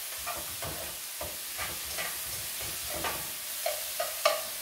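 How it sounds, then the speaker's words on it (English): Chopped onion sautés in a pan, a constant close sizzle with soft stirring scrapes, ending in a few sharper clicks of a utensil against the pan. "see, the onion is getting sauteed. It's getting softened right now"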